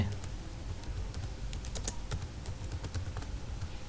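Someone types text on a computer keyboard in quick, uneven runs of close, light clicking keystrokes, with no talk over it.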